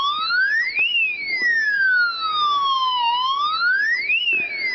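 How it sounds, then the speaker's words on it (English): A 1/18 scale toy fire truck model plays an electronic siren, a loud, close wailing tone that sweeps up and down in repeated cycles with no talking. "there's a siren,"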